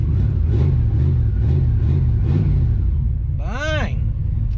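The engine of a 1968 Pontiac Tempest settles into a low, rumbling idle as people talk nearby, with a rising and falling rev surge toward the end.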